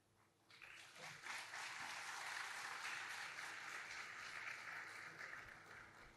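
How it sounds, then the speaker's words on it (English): Sustained applause from an audience at a careers mentoring session, swelling quickly to a dense, steady roar of clapping that holds for several seconds before easing slightly. "I think everyone in the audience resonated with the message and hence the applause."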